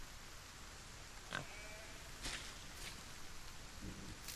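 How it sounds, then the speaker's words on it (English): A pig in the video game Solarpunk gives a few faint, short oinks and grunts, spaced a second or so apart, half buried under a steady hiss of rain. "Dumb pig, get out of here."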